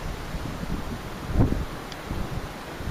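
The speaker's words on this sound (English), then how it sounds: "Damn wind, I'm going to have to get my coat on." Outdoor wind buffets the microphone while someone drains gas from a snowblower, a steady low rumbling rush with one stronger gust partway through and no talk.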